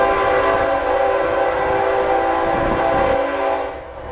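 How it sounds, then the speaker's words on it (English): A train passes near an old Dutch colonial farmhouse, its horn sounding loud and sustained over the steady rumble of the cars, fading slightly at the end; no talking. "Sorry about the train."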